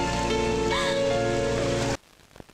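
Steady broadband hiss of rain falling, fairly loud and continuous for about two seconds before cutting off abruptly, leaving near-silence with a few faint ticks.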